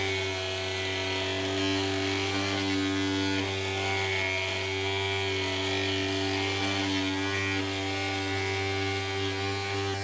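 A homemade PVC cooler's fan blows air with a constant motor hum and buzzing drone, steady and close throughout, with no speech over it.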